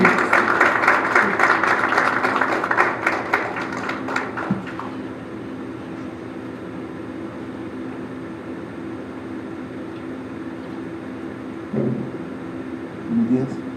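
An audience at a medical talk on surgical therapy for arthritis applauds Dr. Tomás Ramos, a loud dense burst of clapping for about four seconds that cuts off, leaving a low steady room hum.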